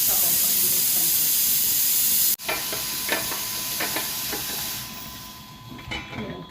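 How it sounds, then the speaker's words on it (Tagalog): Steam is released from a pressure cooker of beef kabsa: a loud, steady broadband hiss stops abruptly partway through, then continues softer with scattered clicks and clatter nearby. "Kailangan kasi matanggal agad yung singaw niya. Para hindi siya umapaw yung sabaw pag binuksan ko."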